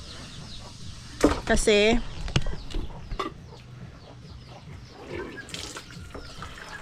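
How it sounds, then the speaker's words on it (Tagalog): Chickens cluck and squawk in a village front yard in the Philippines, a loud burst of calls near the start, then softer clucks over outdoor background, with a person speaking briefly. "Kailangan nating pakainin yung manok natin."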